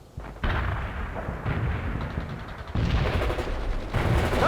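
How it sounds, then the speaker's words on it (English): An artillery barrage strikes in the video game World in Conflict, heard as a continuous rumble of heavy impacts and rattling blasts that grows louder in waves, with no talking. "Barrage hit for full effect."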